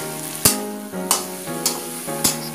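Potatoes frying with spices in a pan for an onion- and garlic-free vegetable curry, a steady close sizzle broken by four rhythmic scrapes of stirring.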